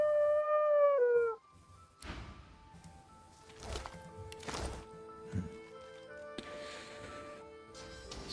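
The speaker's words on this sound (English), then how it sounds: "Seeing dogs mourn always makes me sad." Dogs howling in mourning in the video game Divinity: Original Sin 2, a loud drawn-out howl at the start, then quieter whines and scattered game sounds.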